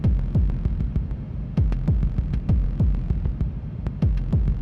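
A modular synthesizer patch in an industrial hardcore techno setup pulses out a deep, heartbeat-like throb, repeating in steady doubled beats, loud and up close with nothing else layered over it.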